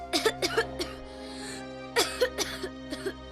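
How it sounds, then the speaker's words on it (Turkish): A child coughs several times in short bursts, pausing between groups of coughs, close and fairly quiet with a low hum behind. "Öksür şimdi."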